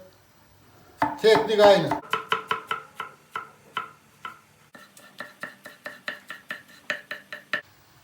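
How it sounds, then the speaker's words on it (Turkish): A knife chops tomatoes finely on a cutting board for stuffed peppers, a fast burst of blows followed by a steady run of distinct, close taps; a brief spoken phrase is heard. "Domateslerimizi de çok ince doğrayacağız"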